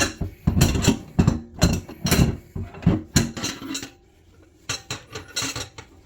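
Rapid, rough scraping and clattering against a heavy cast iron three-legged South African potjie pot in bursts, then a brief pause before more scrubbing.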